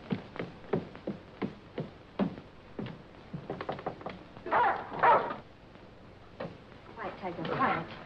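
Near a world champion boxer's quarters, a dog barks and yips in short repeated bursts, then whimpers, with a voice talking over part of it.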